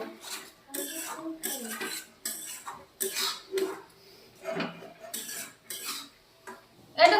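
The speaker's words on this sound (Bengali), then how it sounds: "এবার আমি ভালো করে মশলাটা কষিয়ে নেব" Spice paste for chicken leg pieces being stir-fried in a pan: repeated scraping and clinking strokes of a spatula against metal, in rhythmic bursts with short pauses, close and moderately loud.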